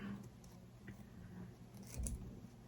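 Scissors snipping fabric close to a zipper on a sewing project, giving a few quiet, irregular cuts and clicks at close range.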